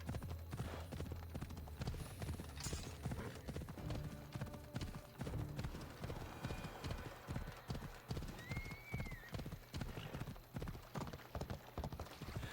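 Rapid clip-clop of horse hooves in the video game Assassin's Creed runs continuously at a gallop, with a brief whinny in the middle; a faint voice murmurs underneath.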